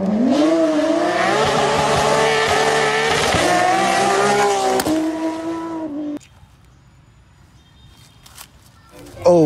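Toy sports car playing a recorded engine sound effect, a loud sustained racing-engine roar with rising revs that cuts off abruptly, leaving quiet room noise and a brief final burst.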